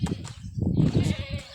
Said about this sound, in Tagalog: Mga kambing nagsunod gihapon oh.